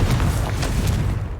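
A dull, rumbling blast from the Confringo fire spell in Hogwarts Legacy, a short booming burst with no speech.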